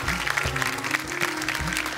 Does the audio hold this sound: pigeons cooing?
no